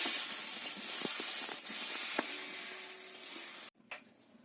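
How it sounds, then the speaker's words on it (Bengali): Broken jaggery in a hot wok with a drop of water sizzles in a soft, steady hiss with a few small ticks, then cuts off abruptly near the end, followed by a brief clatter. "গুড়টা ভালো করে জাল দিয়ে নেবো"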